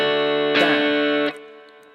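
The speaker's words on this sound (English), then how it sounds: "So your strumming pattern played slowly is going to sound like this." A guitar strummed slowly with all downstrokes for a song: a sustained chord rings, a sharper strum hits around the middle, then the sound is damped and fades, played alone.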